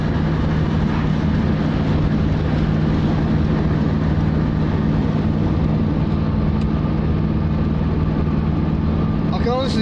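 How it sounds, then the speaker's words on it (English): A Hyundai Stellar fitted with a Rover V8 engine drives along with the windows up, its loud, steady engine drone and road rumble filling the cabin continuously throughout. "It's certainly the first time I've driven a Hyundai Stellar with a Rover V8 in it."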